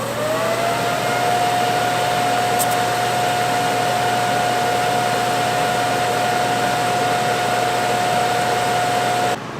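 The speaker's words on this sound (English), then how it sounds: "We completed our first weld." TIG welding of a budget LS turbo kit pipe with filler wire fed into the gap, a steady continuous hiss and hum with a sustained tone, loud and unbroken throughout, with no talking.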